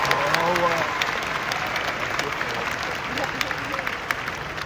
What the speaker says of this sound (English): Can we give a round of applause for our lovely panel up here?